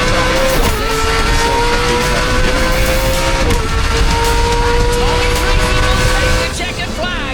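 IROC race cars roar around Laguna Seca in 2025, loud engine drone with rising and falling pitch and some tire noise as cars pass, with a commentator talking over it.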